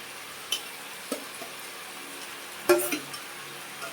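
Katla fish heads dropped into a hot pan, with a faint steady sizzle and a few sharp clinks and scrapes of a spoon stirring, the loudest knock near the end.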